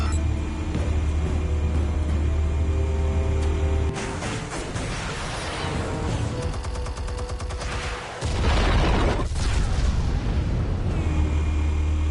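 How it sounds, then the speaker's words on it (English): In the Batman: Realm of Shadows game, armed explosives detonate in loud rumbling booms with crackling bursts, a heavy blast at the start, a second wave midway and another strong roar near the end. "Explosives armed. Fire when ready."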